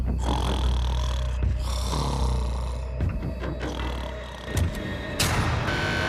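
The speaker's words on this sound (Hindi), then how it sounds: "तुम्हारे खर्राटों ने सोने नहीं दिया।" A man snores loudly through the night, producing a continuous, rumbling, rasping snore that fills the space, close and heavy.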